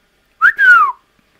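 A person whistles a short two-part note, a brief rising chirp followed by a longer sliding tone, clear and close against silence.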